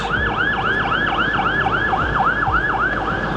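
A fire engine siren wails continuously on a Toronto street, its rising and falling cycles repeating steadily and loud over road traffic noise, with no talking.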